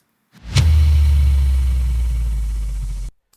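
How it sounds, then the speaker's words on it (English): A single heavy impact hits with a sharp crack, then a deep booming rumble sustains for a few seconds before cutting off abruptly. "I'm gonna bring in a little impact effect just so that we start off things with a bang."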